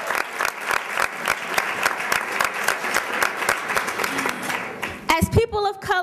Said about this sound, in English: let's give those people a round of applause for their tireless work